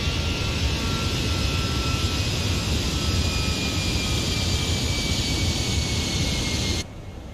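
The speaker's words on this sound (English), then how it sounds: "I thought something was wrong because I heard my engines slowing down" Aircraft engines in Microsoft Flight Simulator 2020 on a flight from Karachi to Dubai, a steady, loud jet drone with a high whine that holds level and then drops off abruptly near the end, with no talk.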